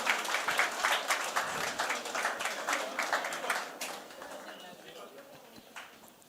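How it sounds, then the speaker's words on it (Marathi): Audience applause for dignitaries at a literary conversation event, dense clapping from a crowd that starts loud and gradually thins out, with voices mixed in. "या एकदा जोरदार टाळ्या झाल्या पाहिजे सगळ्या मान्यवरांसाठी"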